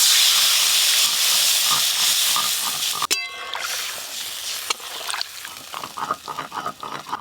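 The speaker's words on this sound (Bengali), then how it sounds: "এবার জল ঢেলে সেদ্ধ করে নেব" A hot pan of fried mango pieces hisses strongly, then a sharp clank comes as water is poured in. The hiss fades into bubbling and trickling, close and without speech.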